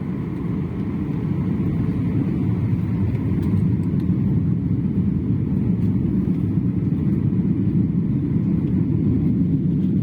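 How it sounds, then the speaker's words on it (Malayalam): An Air India Express airliner aborts its landing in rain at Calicut airport and climbs again, heard from inside the cabin as a loud, steady, unbroken engine roar. "ലാൻഡ് ചെയ്യാൻ മീറ്ററുകൾ മാത്രമുള്ളപ്പോൾ എയർ ഇന്ത്യ എക്സ്പ്രസ് വിമാനം റൺവേയിൽ തൊട്ടില്ല എന്ന നിലയിൽ നിന്നും വീണ്ടും ഉയർന്നു പറന്നു."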